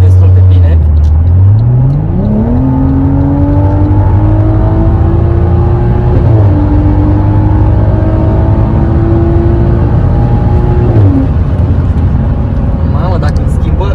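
BMW 6 Series fitted with an X-pipe exhaust accelerating on a highway in comfort mode, a loud steady engine drone rising in pitch through a gear and holding, close and continuous inside the car.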